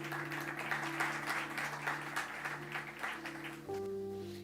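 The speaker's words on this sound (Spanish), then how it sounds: "Dele un aplauso al Señor, por favor." A crowd claps steadily over a sustained organ-like musical tone, the applause fading as the music shifts near the end.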